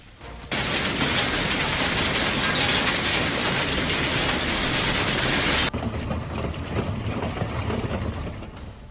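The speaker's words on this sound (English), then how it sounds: "Richmond, Virginia was suddenly hit with coin-sized hail, turning the entire scene into something almost surreal" Coin-sized hail falls in Richmond, Virginia, a dense, loud clatter of stones striking surfaces that cuts off abruptly partway through, then gives way to a softer, steady patter.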